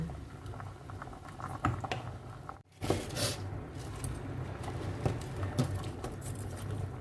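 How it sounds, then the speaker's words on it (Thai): A pot of Thai sour curry with shrimp bubbles vigorously, giving a soft, irregular patter and popping, fairly close and quiet, with a brief dropout partway through. "โหอันนี้เดือดเพ่นพ่านละ"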